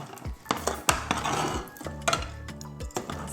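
A metal spoon stirs shelled peanuts into hot, thick jaggery syrup in a pan, making repeated scraping clatters and clinks against the pan in an irregular rhythm, close and moderately loud, with no talk.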